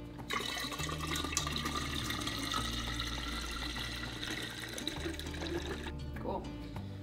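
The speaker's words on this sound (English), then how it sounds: "I am gonna go ahead and add in about this much more of the water so that we can cool off the liquid" Water pours steadily into a container to cool a kombucha brew, a continuous splashing flow at moderate level with faint background hum throughout.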